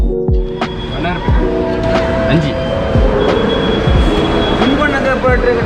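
A metro train at Chennai airport station, loud rumbling and rolling with repeated rhythmic clicks and wheel squeals, heard close on the platform while people talk nearby.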